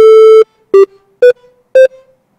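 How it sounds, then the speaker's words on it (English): Four clean synthesizer triangle-wave notes ring out in turn, a longer first note followed by three short ones with brief gaps between them. "So right now I think it's going to play a triangle wave."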